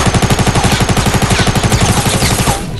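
Rapid automatic gunfire from the Fortnite video game, a loud, steady stream of evenly spaced shots that runs almost without a break before cutting off at the end.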